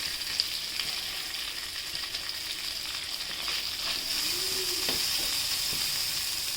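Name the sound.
whole spices and sliced onion frying in a pan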